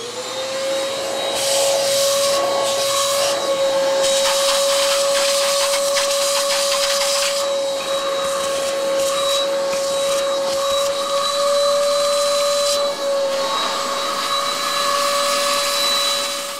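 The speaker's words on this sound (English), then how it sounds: "After laying the keys in another location, this is where a vacuum comes in handy." A vacuum cleaner runs steadily beneath the removed keys of a piano, its motor giving a continuous loud whine with a constant pitch and airy suction noise throughout, with no voices.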